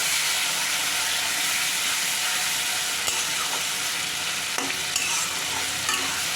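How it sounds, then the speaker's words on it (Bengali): Mutton pieces fry on a high gas flame, giving a loud, steady, dense sizzle throughout with a few sharp scraping clicks of stirring near the end. "কিছুক্ষণ আমি 2-3 মিনিট আমি এটা হাই ফ্লেমেই ভাজবো মাটনটাকে।"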